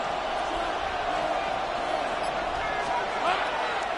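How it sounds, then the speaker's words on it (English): Stadium crowd noise at a Jaguars vs Jets NFL football game, a steady broad roar of fans building on third down, continuous and fairly even with a slight swell near the end, with a play-by-play voice talking over it. "This crowd into it now as we get to third down."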